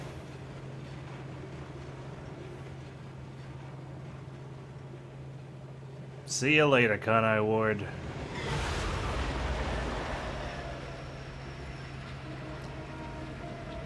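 A train ride in the video game Master Detective Archives: Rain Code gives a steady low rumble and hum throughout, while a character speaks briefly partway through.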